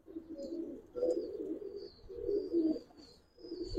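Giribaz pigeons coo softly in a few low throaty bursts, close by and fairly quiet, with a thin high chirp from another bird drifting in the background.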